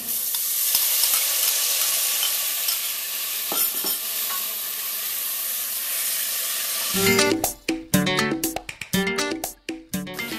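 Chopped tomato goes into a pot of cooking collard greens, first a steady sizzle with faint clinks, then a closer burst of rhythmic stirring and scraping against the pot, with no voices.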